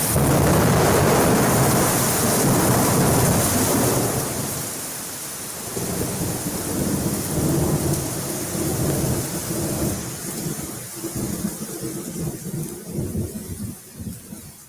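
Thunder rumbles loud and near through a heavy storm, a long rolling crash that slowly fades into softer rumbles under steady rain hiss.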